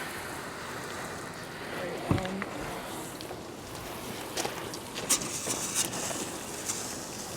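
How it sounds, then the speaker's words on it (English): Water spraying off a dusty, flood-damaged 2021 Mustang GT California Special, a steady broadband hiss with a few sharper bursts, heard close under brief talk. "Nick, go ahead and let's spray all the dust off of it."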